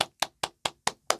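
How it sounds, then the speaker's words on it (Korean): Six sharp hand claps in a steady, even rhythm, close and distinct with short silences between each one. "그래서 박수 한번 치고 가겠습니다"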